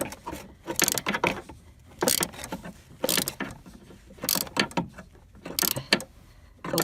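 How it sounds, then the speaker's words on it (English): A short ratchet with an extender loosening a bolt on a Toyota Prius auxiliary water pump, rapid clicking bursts repeated about six times in rhythmic strokes with short pauses between, close and crisp. "The alternative is to use something simple like this, which is just a short ratchet with an extender."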